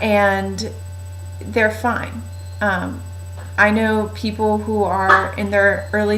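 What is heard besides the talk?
None of the usual background noises is heard.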